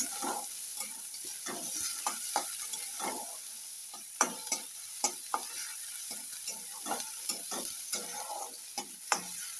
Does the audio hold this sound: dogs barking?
no